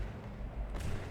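An enemy shell explodes in the naval combat game From the Depths: a low, muffled boom swells partway through, heard fairly faint over a steady rumbling background with no talk.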